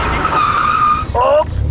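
A car rounding curves during a Soukoukai drift event, engine droning steadily with a rising tonal whine and a brief squeal near the end, heard from inside the car over a continuous low rumble.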